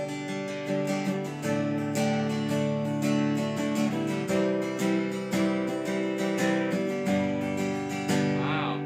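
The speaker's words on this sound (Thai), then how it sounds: "อันนี้จะเป็นเสียงกีตาร์เปล่าๆนะครับผม" An unplugged Sqoe ED49 acoustic-electric guitar plays a steady strummed chord progression, clear and close, with rhythmic strokes and no voices.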